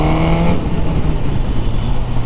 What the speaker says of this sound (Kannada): ಥ್ರಾಟಲ್ ಓಪನ್ ಮಾಡೋ ಒಂದು ಜಾಗ ಸಿಕ್ಕೈತೆ